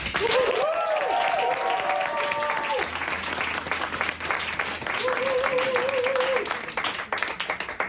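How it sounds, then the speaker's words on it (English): An audience applauds improv performers at a comedy championship event, steady clapping filling the clip at close range, with tonal musical or vocal sounds layered over it in places. "let's give one more round of applause to our performers"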